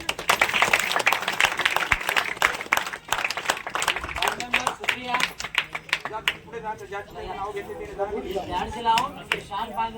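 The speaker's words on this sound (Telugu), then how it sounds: "చప్పట్లు కొట్టాలి." An audience claps during a felicitation ceremony for a village sarpanch at an Ambedkar Jayanti event in Degam village, with rapid, uneven claps in the first half, then thinning claps over a voice on a loudspeaker.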